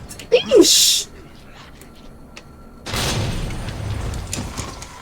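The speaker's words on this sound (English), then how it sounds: "What a waste of bombs" Bombs go off in a video game: a short sharp burst early, then a heavy rumbling explosion that swells and churns for a couple of seconds, with a voice exclaiming over the start.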